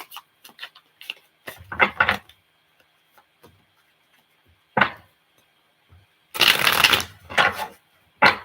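Tarot cards are shuffled in short, crisp bursts of riffling and flicking, close up, separated by quiet pauses, with a longer dense shuffle near the end.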